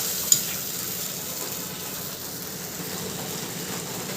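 Ground mustard paste and tomato frying in a pan, a steady soft sizzle with faint stirring, close and alone without any voices.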